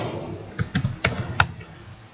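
A few light keystrokes on a computer keyboard while editing code in a web code editor, sparse clicks spaced irregularly and close in a quiet room.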